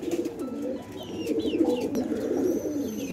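Domestic pigeons coo repeatedly at close range, soft throaty rolling calls overlapping in a steady murmur, with a few faint chirps above.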